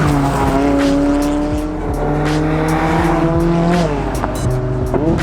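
A 2017 McLaren 570S with a twin-turbo V8 drives hard, its engine roaring loud and steady as it climbs through the revs, a shift dropping the pitch near the end before it pulls again, and no talking.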